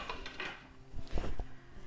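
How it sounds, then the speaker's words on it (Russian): A metal lid set onto a frying pan of simmering sour cream sauce with chicken liver, giving a few soft clanks and a brief rattle close by, faint and without talk. "закрываю крышкой сковороду"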